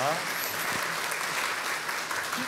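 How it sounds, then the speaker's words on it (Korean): Congregation applauding during a Sunday church service to welcome new members completing the newcomer class, a steady wash of clapping from a hall that lasts the full moment. "힘껏 박수 한번 쳐주시기 바랍니다."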